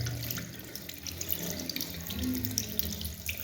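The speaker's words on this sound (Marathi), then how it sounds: "हे प्रथम पाण्यामधून वॉश करून घ्या." Rubber fishing lures are rinsed under a running kitchen tap, giving a steady, close splashing rush of water into a sink with no voices.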